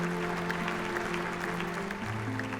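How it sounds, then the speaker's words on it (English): A graduation crowd claps and cheers for the graduates in a dense, continuous wash of applause that holds steady for the whole stretch, with some tonal sound underneath. "Let's give a round of cheer for our graduates."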